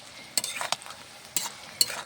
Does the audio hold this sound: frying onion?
yes